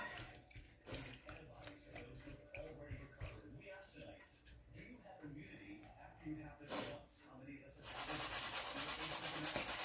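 A paintbrush scrubs paint onto canvas in a wet-on-wet landscape, making soft rhythmic rubbing strokes that are close but faint, with a person talking over them and a louder steady hiss at the end.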